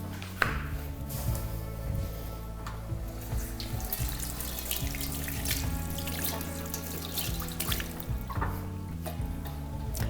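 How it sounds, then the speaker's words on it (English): Sweet potatoes being washed under a running kitchen tap, a continuous close splash of water over the sink with scrubbing and knocking sounds as the potatoes are handled, no speech. "the first thing I always do is wash my sweet potatoes"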